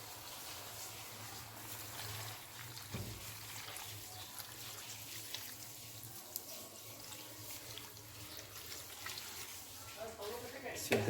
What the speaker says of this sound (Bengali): এবার সিদ্ধর জন্য জলটা দিয়ে দেব।